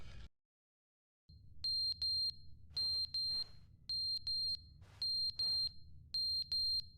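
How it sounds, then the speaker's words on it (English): Fire alarm in the video game The Stanley Parable: Ultra Deluxe beeping in regular paired electronic chirps, loud and close, repeating steadily over a low background hum after a brief silence. "Oh, fire alarm died."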